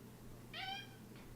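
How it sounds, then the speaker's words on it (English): A cat gives a single clear, rising-and-falling meow, fairly faint and close, over a quiet low hum, followed by a softer trailing sound. "I can't say no to that fucking meow"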